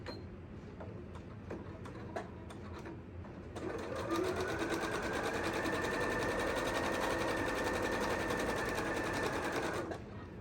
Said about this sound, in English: 1/4 of an inch just on this top part. I'm going to back tack.